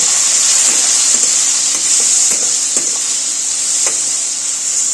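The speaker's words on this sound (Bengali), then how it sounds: "এর মধ্যে অল্প করে জল দিচ্ছি, আমি শুধু সর্ষে তো একটু জল না দিলে পরে তেতো হয়ে যাবে।" Mustard paste frying in a pan with a little water added, giving a loud, steady hiss and sizzle with faint scraping and stirring ticks spread through it, no voices.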